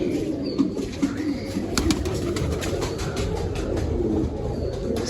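Pigeons, a keeper's birds, coo softly at a steady low level, with a busy background hum throughout and no speech.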